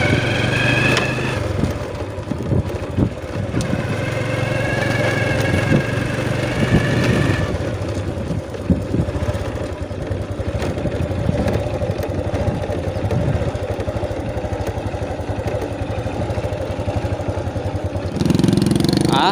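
Motorcycle engine running steadily throughout while riding across a hilltribe village area, a continuous mid-pitched drone with clattering mechanical texture, some faint voices and a brief change in tone near the end.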